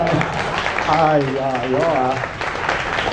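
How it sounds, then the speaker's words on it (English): An audience claps after a magic trick at a live show, a steady wash of applause filling the room while voices talk over it. "Hey, give clap a bit lah."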